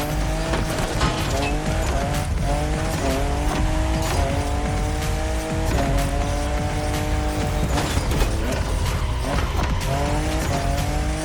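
Toyota Supra, fifth generation, drifting in the racing game The Crew Motorfest: a loud, continuous engine note rising and falling through repeated gear shifts, with tire squeal throughout and no talk.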